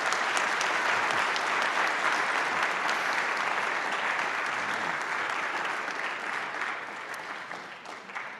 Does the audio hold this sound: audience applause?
yes